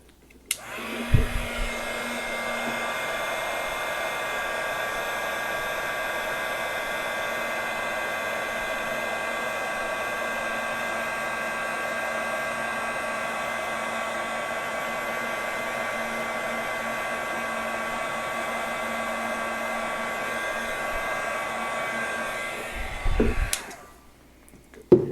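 A handheld electric heat tool blows steadily for over twenty seconds, melting embossing powder on handwritten lettering; the close, even whirring hum starts and stops with brief clicks at each end.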